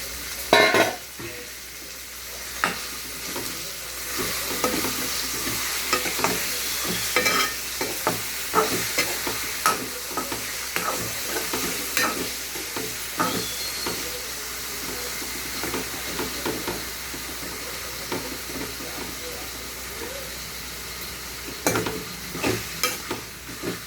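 Chicken pieces fry in a curry pan under a constant steamy sizzle, while a spoon stirs and scrapes in repeated, uneven strokes, near and fairly loud throughout.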